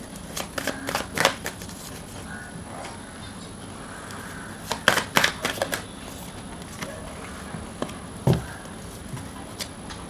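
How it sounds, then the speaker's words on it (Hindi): Tarot cards being shuffled and drawn, bursts of quick papery riffles and flicks clustered in short runs, close and fairly crisp against a quiet room. "चलिए और कार्ड्स निकालते हैं।"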